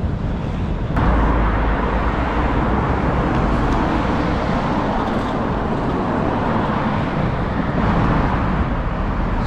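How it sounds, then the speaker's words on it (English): Steady, loud road traffic roars continuously through a waterfront spot in Bristol near Brunel's suspension bridge, a dense broadband wash of passing vehicles with no speech. "Sorry about the traffic noise here."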